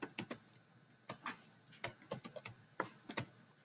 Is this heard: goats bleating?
no